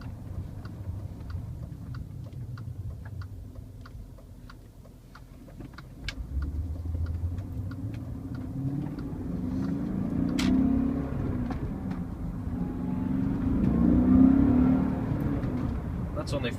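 Engine of a 2000 BMW M5 pulls harder under acceleration from inside the cabin, a low growl building steadily over about ten seconds as a person speaks over it, with light ticking clicks in the background.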